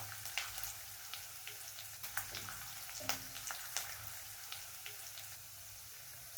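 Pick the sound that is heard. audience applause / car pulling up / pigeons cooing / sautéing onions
sautéing onions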